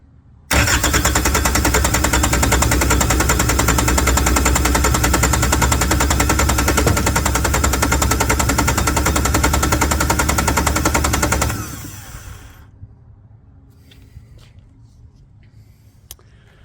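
Yanmar diesel engine cranking and catching, a loud rapid clattering run for about eleven seconds before cutting off abruptly, leaving faint ticks and quiet.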